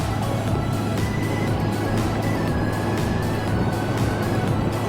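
Interior drone of a car cruising north on Interstate 71 toward Cleveland, a steady loud road and engine rumble with tire hum and faint wind, unbroken for several seconds with no voices.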